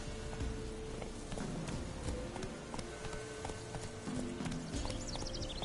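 In The Witcher 3, a horse gallops with a steady, dense clip-clop of hooves under continuous game ambience and music, loud and unbroken throughout.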